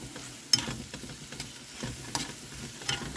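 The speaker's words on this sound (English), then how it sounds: "I'm just going to let this kind of saute and brown and get really, beautiful and delicious." Food sautés and browns in a pan with a faint, steady sizzle, broken by a few soft clicks and scrapes of stirring, quiet and close.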